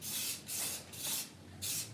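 Quick bursts of spray paint hiss onto wooden table and chair parts to mark them for routing and carving, four short even puffs in a steady rhythm, close and alone.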